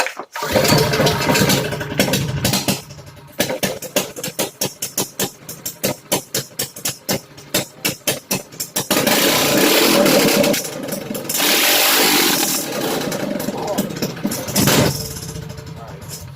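A Predator 212 minibike engine cranks in a rapid series of pulsing turns, then catches and runs loudly, rising to a rough, busy roar with a rattling edge, close by and continuous to the end.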